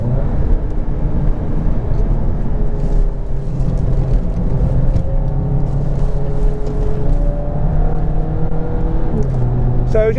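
A Volkswagen Golf GTI TCR drives gently around a race circuit, its engine a steady low drone with smooth, gradually rising tone as it pulls through gears, continuous and close inside the cabin.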